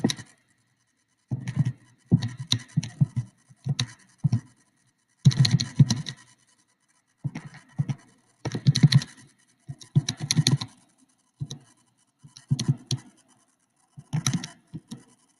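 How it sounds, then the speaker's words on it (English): Buttons on a calculator are pressed in short irregular clusters of soft plastic clicks and taps, close and quiet, separated by brief pauses. "I'm going to do this on my calculator on the side here."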